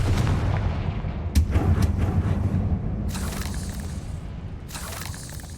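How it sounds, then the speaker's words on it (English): The Confringo fire spell explodes in Hogwarts Legacy with a sharp boom, then rumbling, crackling debris and later bright bursts, heard close and with no talking. "Confringo."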